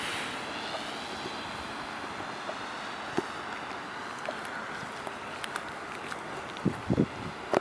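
A model airplane climbing after takeoff, its small engine a faint steady drone in the distance, with wind and a few sharp knocks and rustles close by toward the end.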